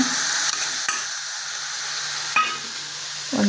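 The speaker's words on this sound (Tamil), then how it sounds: "இப்போ இது நல்லா வதங்கட்டு கொஞ்சம்" Onion sautés in a pan for a tamarind curry, a steady soft sizzle and frying hiss with a few brief clinks and stirring scrapes of a spoon, close and alone without talk.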